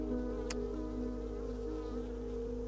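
Honey bees hum steadily at an open beehive, a dense continuous drone close by with one brief sharp insect buzz passing near the start; no voices.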